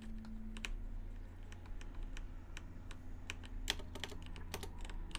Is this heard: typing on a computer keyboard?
yes